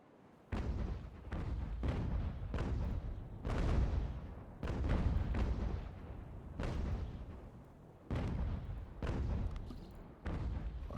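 Repeated ship cannon broadsides in Ultimate General: American Revolution, a series of heavy booming shots spaced about a second apart, each with a rumbling decay, loud and close with no talk over them.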